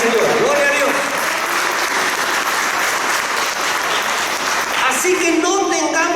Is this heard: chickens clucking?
no